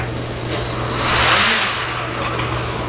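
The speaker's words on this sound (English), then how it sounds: "the motor still works." An epoxy-waterproofed small electric motor runs close by with a steady, even hum and a slight swell in loudness midway, with no one talking.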